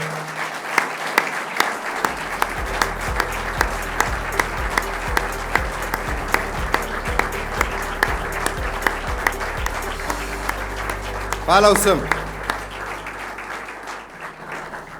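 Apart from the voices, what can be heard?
conference audience applause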